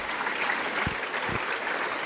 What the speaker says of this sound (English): Let's give them a big round of applause for being here with us today.